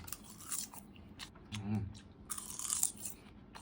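Crispy baked kale chips, original flavour, crunched and bitten in a few short bursts, close and fairly quiet, with brief pauses between bites and no talking.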